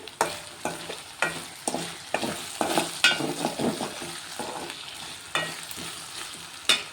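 Potatoes frying in a pan for a potato-tomato curry, with repeated close stirring scrapes and clatters over a soft sizzle, in uneven bursts throughout.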